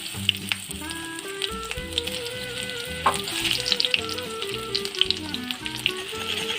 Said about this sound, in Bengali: তেলটা যখন গরম হয়ে আসবে তখন পেঁয়াজ কুচি দিয়ে দেবো